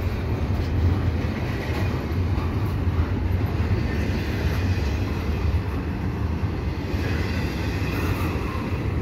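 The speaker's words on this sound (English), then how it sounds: "So it's got one CP locomotive on the front there." A CPKC eastbound intermodal freight train led by a CP locomotive rolls steadily past at Dorval, giving a loud, continuous low rumble of wagons with faint clickety-clack throughout.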